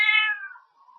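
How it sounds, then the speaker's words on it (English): A single short cat meow, clear and fairly close, falling in pitch and fading out, with nothing else around it. "there's a cat, I thought I could hear it."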